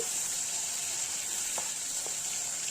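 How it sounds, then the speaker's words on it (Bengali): Bata fish fry in oil in a wok, giving a continuous close, even sizzling hiss with a couple of faint spits. "ওইদিকে মাছ ভাজাটা হচ্ছে"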